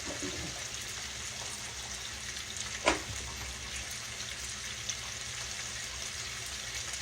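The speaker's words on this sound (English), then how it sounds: "Rinse our hands off a little bit." Running water from a kitchen tap as hands are rinsed beside frying catfish nuggets, a soft continuous hiss with one brief clatter partway through and no talking.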